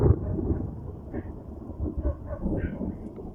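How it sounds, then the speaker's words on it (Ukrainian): Thunder rumbles low and heavy during a rainstorm over a grape vineyard, a sustained rolling growl with several swelling peaks, fairly close and without talk. "Гром, звісно, здоровенний"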